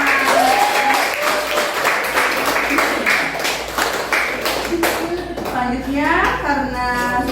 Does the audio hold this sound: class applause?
yes